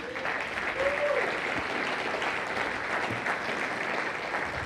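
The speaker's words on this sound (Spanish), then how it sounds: "¿Puedes darle un aplauso a Él?" A church congregation claps in praise to God, a steady wash of applause. A brief voice briefly rises above it early on.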